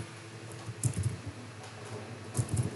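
Someone types on a computer keyboard during a visual programming lesson, producing two short clusters of soft, muted key taps about a second and a half apart. The taps sit close and at a moderate level over faint room noise.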